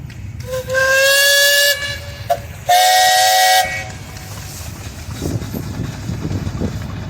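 A steam tractor's whistle sounds at a steam show parade in two loud, sustained blasts, the second after a short gap, over a low rumbling engine and crowd background.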